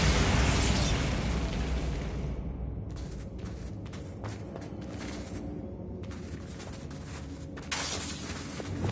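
Bombarda spell explosion in the video game Hogwarts Legacy: a loud, broad blast opens the clip, followed by a dense rumbling wash with scattered crackling bursts and a second swell near the end.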